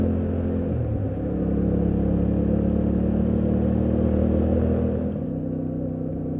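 A Yamaha Tenere 700 motorcycle engine pulls under throttle, a loud, steady low rumble with a rising tone shift early on before it settles and eases off near the end, up close and without talk.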